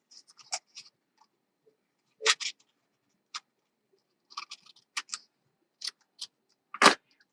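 A paper doily is snipped with scissors for a wedding album, giving sparse, crisp cuts and clicks spaced irregularly over a quiet background.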